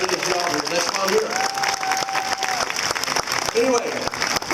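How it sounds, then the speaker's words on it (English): Audience applause at Sea World San Diego, a moderate burst of clapping mixed with crowd noise and talk on top. "Let's have a round of applause for a company that really practices what they preach."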